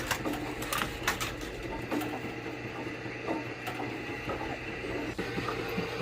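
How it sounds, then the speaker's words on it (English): An AMF 82-95 candlepin bowling pinsetter runs behind the wall, its distributor advancing through a clutch mechanism with a steady, busy mechanical rattle and whir and sharp repeated clicks and clacks, fairly loud and close. "As each pin falls off the end of the distributor, it hits a lever, which releases a clutch mechanism, advancing the distributor to the next position."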